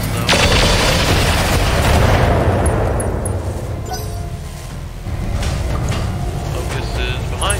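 Heavy mech weapons fire in a BattleTech battle, a loud booming salvo of autocannon and other guns that rolls and rumbles continuously, with a second burst of fire near the end.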